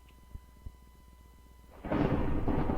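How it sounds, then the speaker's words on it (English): Minecraft thunder during a Nether-exploration survival game, a faint quiet stretch with two soft thumps, then a sudden loud, rumbling roll that swells and holds to the end, with no talk. "Thunder. I like thunderstorms."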